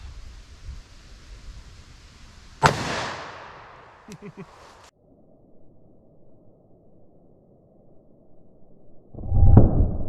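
A handgun is fired into a gel target during a law-enforcement ammunition test of .357 Magnum against 9mm, giving one loud, sharp report that decays slowly. A second loud burst follows near the end, with no talk.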